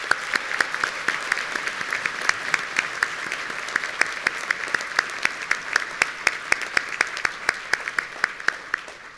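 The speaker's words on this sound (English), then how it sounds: "Let us recognize these students with a round of applause." A graduation ceremony audience gives sustained applause for first-generation bachelor's graduates in biomedical sciences and neuroscience, a steady dense patter of many hands with sharper individual claps standing out, filling a large hall for the whole stretch.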